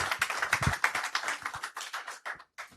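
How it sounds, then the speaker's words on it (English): An audience at a construction and real estate outlook panel event gives a brief round of applause, a burst of many hands clapping at close to moderate distance that tapers off quickly. "Can I have a round of applause for Mr. Abiodun and Kenneth?"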